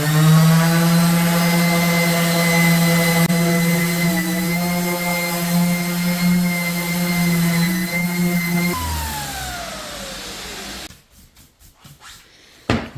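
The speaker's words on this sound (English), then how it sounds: "Let's go with the orbital sander." An orbital sander with P240 paper whirs steadily over a filled wooden sign, a loud close motor hum that cuts off and winds down, followed by a few faint clicks and handling sounds.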